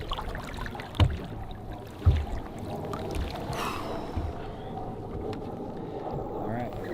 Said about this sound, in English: he goes in the trolling motor on high